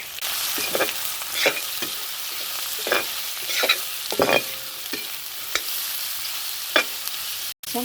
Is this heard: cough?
no